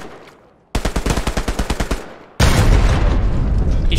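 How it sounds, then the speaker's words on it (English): Gunfire in the World War II shooter Hell Let Loose: a rapid, loud machine-gun burst of about a dozen evenly spaced shots, then a heavy sustained blast of battle noise. "He's shooting at me."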